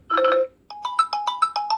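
A Redmi Note 9 phone ringtone plays: a short chord burst, a brief pause, then a quick run of bright repeating electronic notes.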